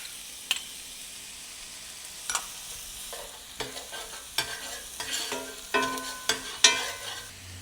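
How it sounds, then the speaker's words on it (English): Minced shallot and jalapeno softening in a hot pan, a steady close sizzle broken by repeated spatula scrapes and stirring clatters that grow busier and louder toward the end. "All I want to do is soften all of these vegetables up."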